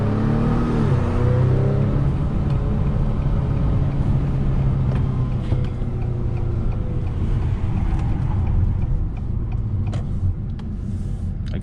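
A 2021 Acura TLX accelerates hard from inside the cabin, with no wheel spin, its engine and road noise a loud continuous rumble that rises and then eases off.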